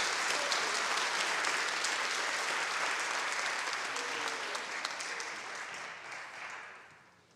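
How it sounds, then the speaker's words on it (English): Sustained applause from an audience at a school athletic awards night honoring 8th graders, a steady roomful of clapping that slowly fades out toward the end. "Round of applause for all of our 8th graders."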